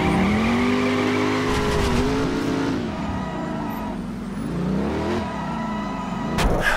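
Car drifting in the Driver: San Francisco video game, a steady loud engine drone with sustained tire squeal that rises and bends in pitch, dipping midway, then a sharp burst near the end.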